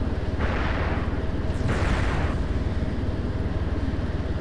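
Weapons fire in the Superhind helicopter video game, with two rushing launch bursts over a steady rotor-like engine throb that pulses continuously beneath them.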